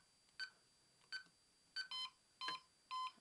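Five crisp beeps from an Accenta G3 Mini alarm keypad as a user code is entered, evenly spaced about half a second apart, fairly quiet in an otherwise silent room.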